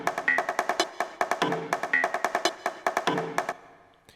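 Hardgroove techno percussion loops play together in a tight, rapid pattern of sharp, punchy hits and clicks with a steady driving rhythm, stopping abruptly just before the end.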